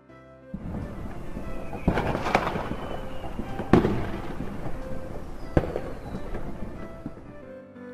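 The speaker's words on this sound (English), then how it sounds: "heard the sound of fireworks exploding" Several sharp firework bangs burst at intervals over a continuous crackling, rumbling backdrop, with a few whistling streaks trailing between the blasts.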